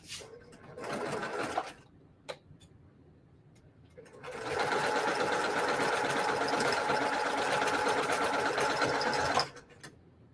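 A sewing machine stitches a quilt block seam, a short burst of rapid whirring stitches, a pause with small clicks, then a longer steady run that stops sharply near the end.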